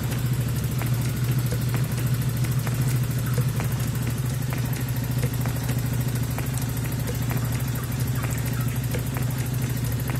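A Honda GL100 motorcycle engine idles steadily and close up, a low, even putter with faint mechanical clatter running unbroken throughout.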